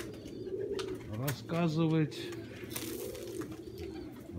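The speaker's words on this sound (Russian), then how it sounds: "сейчас будем уже хороших голубей снимать" Domestic pigeons coo in a loft, a clear rolling coo near the middle, with softer cooing and bird noise around it while someone talks over it.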